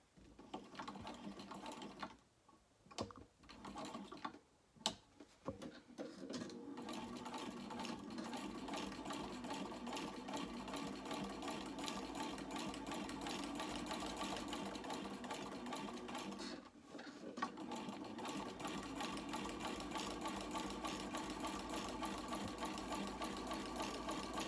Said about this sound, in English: just going to top stitch it